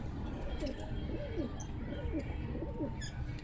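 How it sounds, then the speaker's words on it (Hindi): Soft, low coos from a captured pilka pigeon repeat in a steady series of short rolling calls over a noisy, rumbling background, with brief higher chirps near the end. "ये देखें पिलका कबूतर है"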